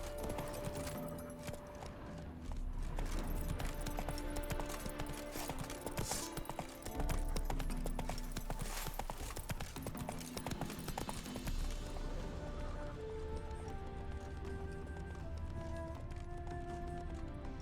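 In The Witcher 3 video game, a horse's hooves clip-clop in a steady galloping rhythm. The gallop sits under a dense layer of game music and ambient sound and stays fairly loud throughout.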